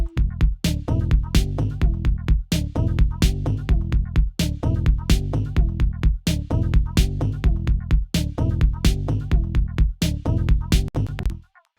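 A mixed drum groove of snare, kick and tom with bass, reverb on the snare, runs in a steady electronic beat with punchy low end and sharp hits. It is loud and continuous and stops abruptly at the end.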